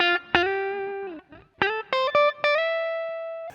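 Electric guitar played through a VOX MV50 Boutique compact vacuum-tube amp head via its line output, with generous reverb: sustained single notes and short phrases with clear harmonic tone and lingering tails.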